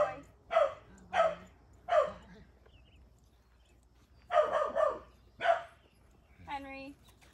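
A dog on a leash during a training session barks several times in short bursts, close by, with a whimpering yip at the end and a trainer talking in between.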